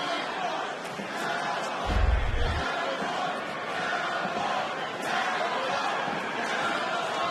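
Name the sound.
crowd chanting "Cowboy" for Cerrone at UFC fight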